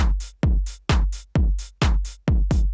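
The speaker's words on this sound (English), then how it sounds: "this is a really cool track in that like the hats slowly evolve" Drums from an analog house track thump in a steady four-on-the-floor pulse, each low kick decaying under a crisp, bright hi-hat hit on the offbeats, six even repetitions, loud and alone.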